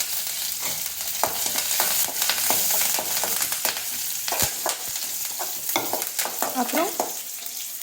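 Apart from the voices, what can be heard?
frying cumin, crushed garlic, curry leaves and red chillies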